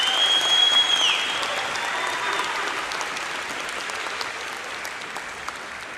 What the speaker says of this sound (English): If that doesn't deserve a round of applause